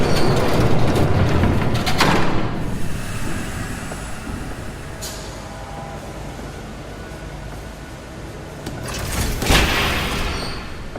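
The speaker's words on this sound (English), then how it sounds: "There's a train coming. Take cover." A train passes in the Batman Telltale video game, starting loud with rumbling rail clatter and sharp metallic bursts, easing off in the middle, then swelling again near the end.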